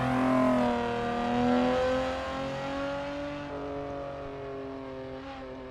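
A car engine in the racing game Assetto Corsa EVO drones and revs with shifting pitch, a smooth steady hum rising and falling, heard alone without talk; the car is rear-wheel drive.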